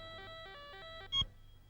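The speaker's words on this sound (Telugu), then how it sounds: "అమర్, నీ ఫోన్." A phone ringtone plays a quick run of electronic beeping tones in a Telugu film scene, followed by a brief thump and a single sharp beep.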